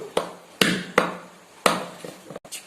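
Five sharp knocks of a cake tin tapped on a counter, spaced unevenly, each ringing briefly, followed by a softer rattle.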